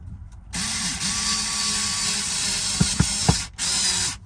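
A power driver sinks a screw while Victron Orion DC chargers are fitted in a Sprinter van: a steady, close whirring drive runs for about three seconds, a few sharp knocks near the end, then a short pause before it starts again.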